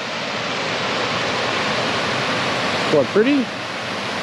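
Steady broadband rush of a small waterfall tumbling over rocks in Victorian high country, running constantly throughout, with someone briefly speaking near the end.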